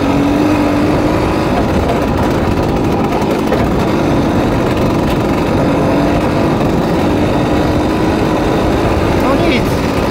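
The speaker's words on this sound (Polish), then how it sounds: "Dwusuwowy silnik. Z 77 roku. W ogóle nie jest po remoncie." A 1977 Jawa 50 type 20 motorcycle with an unrestored two-stroke engine, heard while riding as a loud, steady engine drone buried in strong wind noise.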